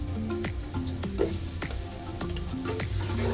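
Onions sizzle and fry in oil over a high flame for beef biryani, a steady crackling hiss broken by a few sharp stirring clanks and scrapes, close and fairly loud throughout.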